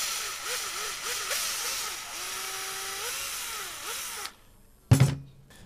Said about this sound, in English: just drill out one hole and drill out the other one without twisting it at all.